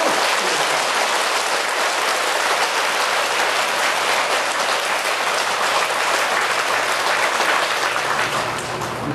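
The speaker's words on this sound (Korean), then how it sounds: "큰 박수를" A temple audience at a Buddhist dharma talk breaks into loud, sustained applause, a dense continuous clatter of many hands that fills the room and stays steady before easing slightly at the end.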